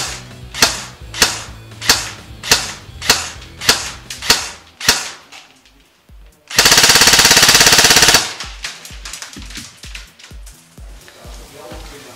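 A Classic Army 416 CQB airsoft gun firing 0.3 g BBs off a 9.6 battery: about eight single shots in a steady rhythm, then a buzzing two-second full-auto burst, followed by quieter rapid clicks and fainter shots.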